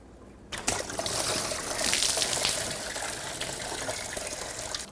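Coolant pours from the disconnected lower radiator hose of a 2003–2008 Subaru Forester, a sudden gush that settles into a steady, close, splashing stream running continuously after a quiet start.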